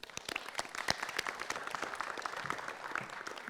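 An audience applauds to welcome a guest, steady dense clapping at moderate distance that runs throughout without pause.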